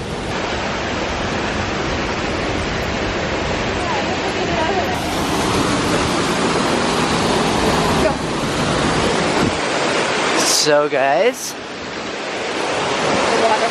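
Continuous loud rushing water roar from a pool-area waterfall at the Tropicana Hotel & Casino, 2019, steady and close, with brief voices cutting in near the end.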